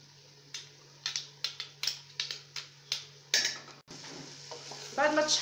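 Chopped onion and garlic sauté in a pan under a soft sizzle, while a utensil scrapes and taps the pan in a series of sharp, regular stirring strokes. The sizzle swells louder near the end.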